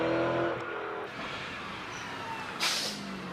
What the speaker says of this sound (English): Here's the lovely Aston Martin again